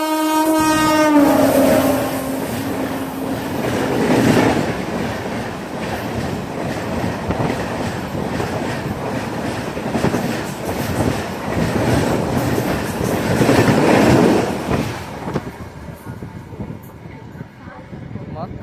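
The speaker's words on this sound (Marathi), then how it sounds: "ट्रेन आहे ती जनशताब्दी सुपरफास्ट एक्सप्रेस." A Janshatabdi superfast express train blows its horn, then thunders past at full speed with a loud rushing rumble and rhythmic wheel clatter before fading; people talk excitedly during the pass.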